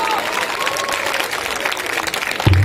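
An audience at a TTFAC Annual Day 2022 stage show in Anushaktinagar claps steadily in a dense, even wash of applause. A low thump and the start of music come in near the end.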